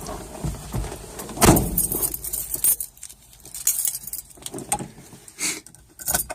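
A key turns in a mini truck's ignition with a jangle of keys, followed by a sharp click as the relay engages, close by and with no talk.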